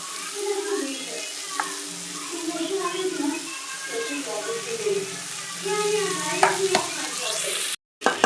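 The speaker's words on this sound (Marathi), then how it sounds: "आता यामध्ये आपण आपला सकाळचा शिळा भात टाकून घेणार आहोत" Leftover morning rice is stirred and fried in a pan, giving a light sizzle with scraping stirs, while a voice talks over it throughout.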